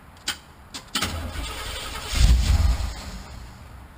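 A few sharp clicks, then a ramp truck's engine cranks and catches with a low rumble, running roughly as it settles.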